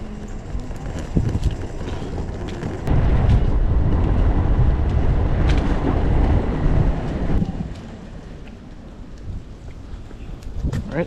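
A Wowgo Pioneer X4 electric skateboard rolls down a road, a loud steady wheel rumble that swells and roughens midway and then eases, heard close from the board with wind noise.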